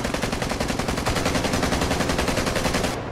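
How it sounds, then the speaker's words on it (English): Continuous rapid-fire gunfire in the zombie video game Contagion, a dense unbroken stream of loud shots at a steady fast rhythm that cuts off abruptly at the end. "somebody's opening fire"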